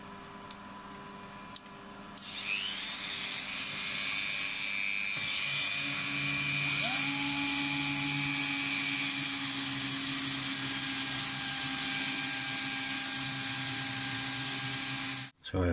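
A rotary sanding tool grinding down rubber parts for a Tascam 244 cassette portastudio, spinning up after a couple of seconds into a steady high whine that holds for over ten seconds before cutting off, close and loud.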